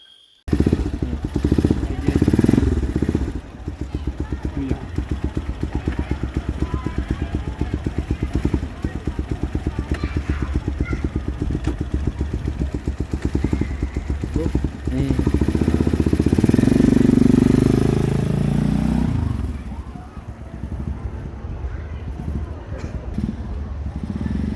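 A motorcycle engine revs steadily and loudly as the throttle is twisted, surging and swelling for a few seconds near the middle before settling back to a sustained running drone, with a voice talking over it throughout.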